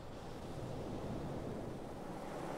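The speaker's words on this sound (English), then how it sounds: "gust of wind." A steady, rushing gust of wind on a film set, a dense broadband roar that swells slightly and stays continuous and fairly close throughout, with no talking.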